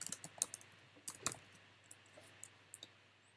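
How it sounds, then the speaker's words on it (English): Keys clack on a computer keyboard while a title is typed into a PowerPoint slide, a quick irregular run of light close-up clicks over a faint steady hum. "typing in our title"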